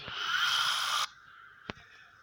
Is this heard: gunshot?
no